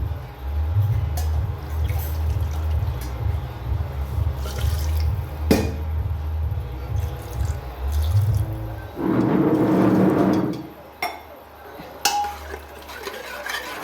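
Water is poured into a pot of chopped beans and potatoes, a loud splashing gush lasting about a second and a half, set among kitchen clatter and a low rumbling background hum.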